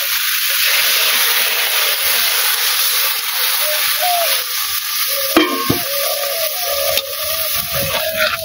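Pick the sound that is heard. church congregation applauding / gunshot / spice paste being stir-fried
spice paste being stir-fried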